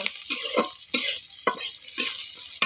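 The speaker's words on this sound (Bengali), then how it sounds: "মাছ কিছুক্ষণ ভেজে নিব" Small puti fish fry with onion and green chili in a pan, with a spatula scraping and stirring in repeated strokes about every half second over a close, steady sizzle.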